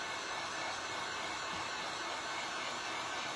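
A hair dryer blows steadily on fresh paint on a wooden angel shelf sitter, a loud, unbroken whirring rush that holds an even level from start to end with no talking.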